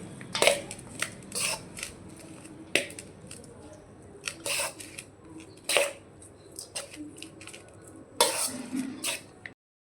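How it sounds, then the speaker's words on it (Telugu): A ladle stirs and mixes gongura masala rice in a pot, giving repeated scraping and soft squishing strokes at an irregular pace, with occasional light clinks against the vessel. "ఈ గంటనే మన రైస్ మొత్తాన్ని కలుపుతుంది మనం కలిపేసుకున్నామండి"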